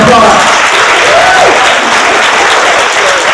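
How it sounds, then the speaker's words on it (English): Steady, loud applause fills an awards luncheon hall as a large audience claps continuously for the whole stretch, with a voice faintly audible beneath the clapping. "Let's give them a round of applause."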